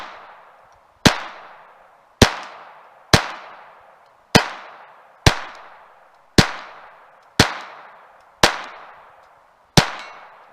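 Ten sharp gunshots from a Glock 44 .22 pistol firing Federal Target Auto rounds, evenly spaced about a second apart, loud and close, each crack trailing off in a short echo.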